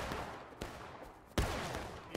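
Gunfire in the American Civil War game War of Rights: a few scattered musket shots, one sharp close report among fainter distant cracks over a rumbling battlefield background.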